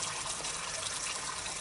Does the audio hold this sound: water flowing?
yes